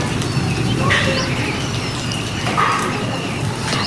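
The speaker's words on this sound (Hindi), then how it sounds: "पक्षियों की कितनी ज़ोर से चहचहाट वाली आवाज़ आ रही है" Birds chirping on a rainy morning along a roadside, a few short bright calls standing out over a steady outdoor background hum.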